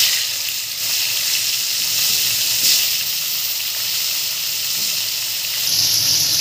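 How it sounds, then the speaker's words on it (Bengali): Cauliflower pieces fry in hot oil that has just been used for frying fish, a loud, continuous close-up sizzle and hiss with no pauses. "এই তেলের মধ্যেই আমি ফুলকপিগুলো ভেজে নেব।"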